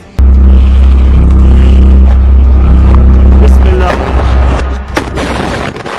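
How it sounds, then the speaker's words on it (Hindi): A fired shell strikes a Merkava tank in the Israel–Hamas war, and a sudden loud boom gives way to a sustained deep rumbling roar that slowly fades, very close and overwhelming. "अल कासिम का एक लड़ाका इसके ऊपर गोला फायर कर देता है, जिसकी वजह से इस टैंक में जोरदार ब्लास्ट होता है"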